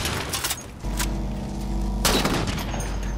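Gunshots in the Halo 4 Spartan Ops shooter game: quick sharp shots early on, then a steady low hum before one loud, close blast rings out and fades.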